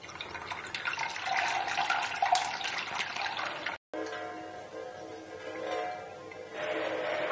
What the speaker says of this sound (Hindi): तो इस पे थोड़ा सा ठंडा पानी भी शामिल कर लें।